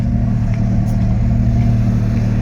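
A Ferrari at a car meet in Mallorca, its engine running with a loud, steady, deep rumble and a slight rev, close by and continuous with no voices over it.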